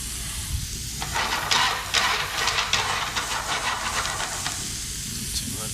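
Garlic going into browned onions in a hot pan, a steady hiss and crackling sizzle that swells briefly when the garlic lands and then settles into a constant frying noise.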